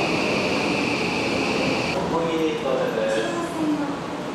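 Steady rumbling hum of a moving first-morning train carriage in Japan fills the space, with a high whine fading out and people talking over the ride.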